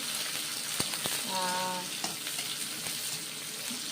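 Onions sizzle and fry in a pan for a village-style mutton curry with potatoes, a soft steady crackle broken by a few sharp knocks of utensils, with faint background noise.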